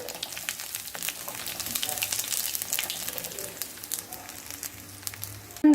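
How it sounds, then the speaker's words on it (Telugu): Asafoetida is dropped into hot oil in a pan and stirred, giving a continuous close sizzle with scraping and crackle, ending in a sharp clink. "ఇంగువ వేసి కలుపుకుని"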